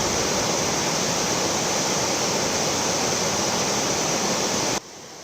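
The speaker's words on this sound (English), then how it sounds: "the water is flowing, as you can see, and there are concerns about the possibility of more flooding at Yosemite National Park" Floodwater of a swollen river at Yosemite National Park rushes in a dense, loud, steady roar that continues unbroken before cutting off abruptly near the end.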